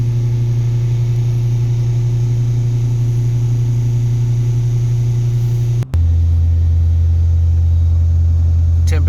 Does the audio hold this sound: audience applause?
no